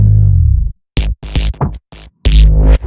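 A loud electronic synth bass section from a remix of a track, built from heavy low, buzzy sustained tones. They cut off abruptly into short choppy stabs with silent gaps and end on a thick, bright sustained burst.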